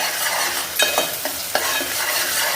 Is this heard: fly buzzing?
no